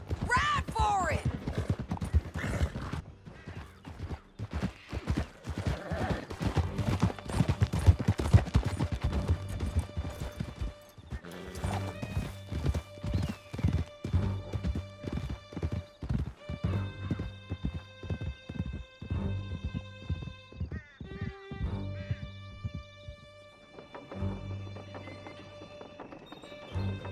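Galloping horse hooves in Red Dead Redemption 2 pound in a steady, driving clip-clop rhythm, loud and close. A horse whinnies and game music plays alongside, and a voice speaks briefly over the ride.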